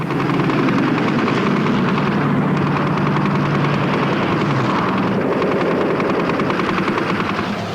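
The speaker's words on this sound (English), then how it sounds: "This unique gun camera film shows a Spitfire 5 caught over Malta, outturning its German opponent under relentless fire to emerge unscathed." A Spitfire Mk V fighter flies over Malta in wartime combat, heard as a loud, unbroken engine roar and drone that fills the whole stretch.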